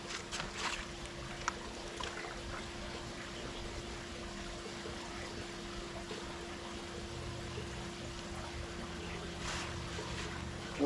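Pool deck coating paint poured from a can into a container, a steady liquid trickle and splash alongside a low background hum, with no talk.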